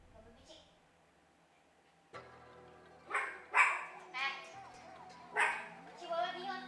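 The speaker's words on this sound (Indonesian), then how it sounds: "anjing berisik" A dog barks several times nearby, loud yips and barks in a cluster toward the end, with a voice talking around them during a live stream.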